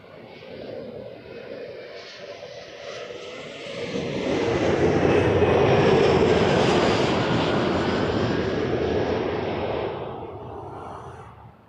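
United Express Embraer 175 airliner landing at Toronto Pearson, its jet roar swelling from a moderate rumble to a loud, sustained peak before easing off as it passes.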